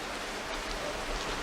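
Steady rain falling on an island, a continuous even hiss of drops heard alone at moderate level throughout.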